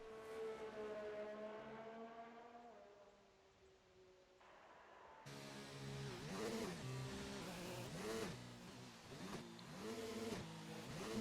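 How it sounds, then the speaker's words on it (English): Racing car engine in an F1 video game at the French Grand Prix, a McLaren with gearbox trouble: a steady high whine that drops, then cuts to harsh, wavering revs with abrupt pitch jumps, loud and alone. "Gear issues for Niche's car there, it sounds like"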